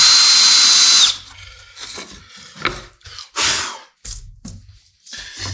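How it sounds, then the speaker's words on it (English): A power drill bores vertically into a wooden tabletop in one loud high-pitched whir lasting about a second, followed by quieter scraping and handling sounds in short bursts. "And drill vertically."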